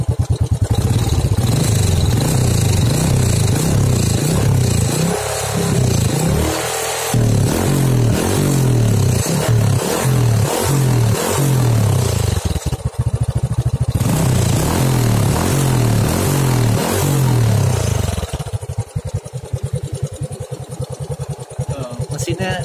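Kawasaki Edge motorcycle engine idling close by with a loose cam chain, a loud steady throb with rhythmic pulsing and some mechanical clatter, settling quieter near the end.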